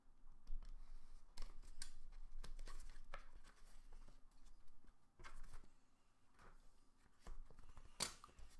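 Scissors snipping through 5mm foam to cut out a small square, producing close, irregular bursts of crisp cutting and rustling with short pauses between, no voices.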